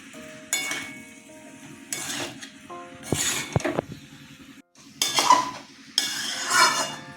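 Spices for a vegetarian jackfruit curry are stirred in a pan, a utensil scraping and clinking against the metal in repeated bursts over a low steady hum, with faint sizzling between strokes.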